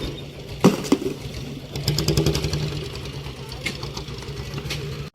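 A boat engine chugs with a steady rapid knocking rhythm, joined by a few sharp clanks and brief voices in the background, on a boat from Jafrabad to Shiyal Bet.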